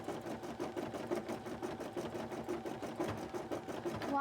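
A sewing machine runs steadily in a fast, even chugging rhythm, close and moderately loud throughout while someone works on a cosplay piece, with no voices over it.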